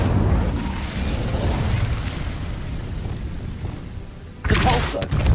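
The Incendio fire spell cast in Hogwarts Legacy, a rumbling whoosh of flame with a sharp burst near the end, loud and close against game ambience.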